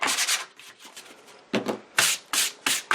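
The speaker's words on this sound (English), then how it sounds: "I'm just going to sand it a little bit just to smooth it a little bit" Sandpaper rubbing over a homemade gesso canvas made from dollar-store materials, a close, dry rasping hiss in quick back-and-forth strokes, steady at first, then separate bursts after a short pause.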